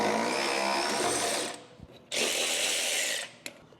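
Adjustable shoes being unbolted from a tractor's snow plow blade with a power tool. Two sustained whirring, ratcheting bursts run close and loud, split by a brief pause with a couple of metallic knocks.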